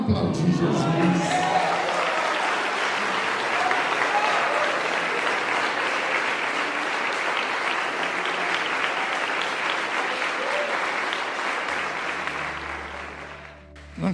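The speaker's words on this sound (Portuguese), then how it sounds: "Aplaudir Jesus." A church congregation applauds with sustained, dense clapping that fills the room steadily for about thirteen seconds before dying away at the end.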